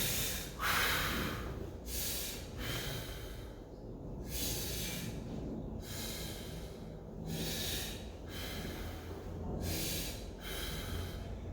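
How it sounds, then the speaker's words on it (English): Heavy rhythmic breathing during a chest-press workout, about six forceful exhales through the nose and mouth, snorting and hissing, each roughly two seconds apart, close and loud, with no talking. "Now, I'm going to breathe in, exhale, push out."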